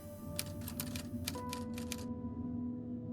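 Rapid on-screen text typing blips from the sci-fi horror game Lunar Eclipse, a quick run of clicky ticks over a low steady background hum, stopping partway through.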